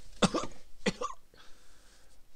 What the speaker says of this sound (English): he'd cough out a load of spit and spittle